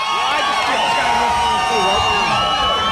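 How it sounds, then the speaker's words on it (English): A rowdy crowd at an album release party at Billboard Live on the Sunset Strip roars and whoops continuously at full volume, shouts and cheers blending into a loud, unbroken wall of noise. "as you can hear, we've got quite a rowdy crowd tonight"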